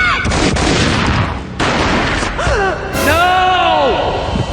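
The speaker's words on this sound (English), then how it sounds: "A gunshot boomed and she fell down in slow motion." A booming gunshot in the mobile shooter Max Payne Mobile, sharp bursts of gunfire early on followed by a gasp and a slow, warped slow-motion effect with a falling groan.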